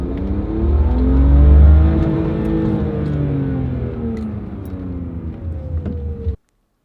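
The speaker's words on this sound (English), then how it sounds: "push the gas pedal all the way down and see if everything operates smoothly" A used car's engine revs up hard with the gas pedal floored, holds a loud steady drone, then winds down before cutting off abruptly.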